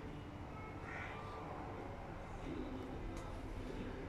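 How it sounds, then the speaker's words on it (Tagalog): Birds flying at dusk around seven in the evening under low clouds give a few faint crow-like caws, spaced apart and distant over a steady low background hum, with no talking. "Tuwan-tuwa yung mga ibon"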